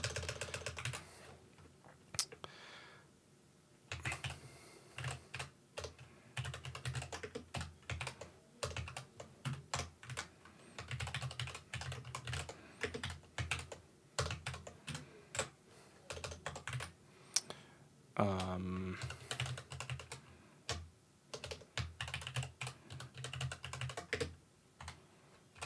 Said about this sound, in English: actually getting tired of typing this.